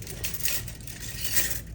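Faint metallic clinking as metal surgical towel clamps are handled in a CVOR instrument tray, light small chinks spread over a short moment.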